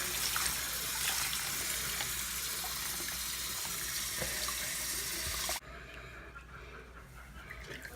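Steady running water from a tap or shower rinses conditioner out of hair, a constant broadband hiss that cuts off abruptly near the end, leaving a quieter background wash.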